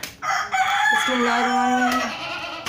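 A rooster crows once at close range on a rural farm on a rainy morning, a loud drawn-out call ending with a falling tail, with faint farmyard background.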